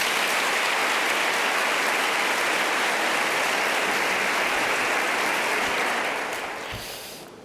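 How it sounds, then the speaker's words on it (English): A large crowd at a university welcome ceremony gives a thunderous, dense round of applause. It holds full and even for about six seconds, then thins and fades out near the end. "that deserves a thunderous round of applause"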